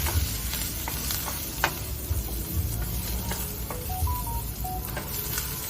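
Onions sautéing in a hot pan give a steady, close sizzle, broken by scattered scraping clicks of a utensil stirring them.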